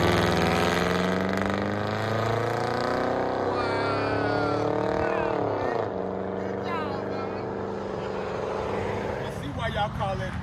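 A Ford Crown Victoria 4.6L V8 with a true dual straight pipe exhaust (2-inch mid pipes, 2 1/4-inch rear, 3.5-inch dump tips) idles with a loud, steady, deep rumble, while someone talks over it.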